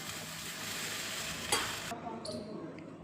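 Sweet potato and chickpeas stirred in a frying pan, a steady close sizzle with scraping spoon strokes and a sharp clatter midway before the frying quiets.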